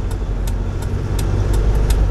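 A manual learner car climbs a slope with the accelerator held down during a driving lesson. A low, steady engine drone runs beneath the regular ticking of the turn indicator, which clicks about seven times.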